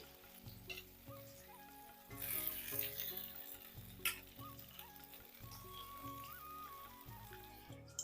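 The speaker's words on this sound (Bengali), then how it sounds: "আমগুলো একটু ভাজা ভাজা করে তুলে নেব গ্যাসের আঁচটা কিন্তু হাই রাখতে হবে" Raw mango pieces fry in oil in a pan over high heat with a low, steady sizzle under a repeating musical backing, and a few louder bursts of crackle along the way.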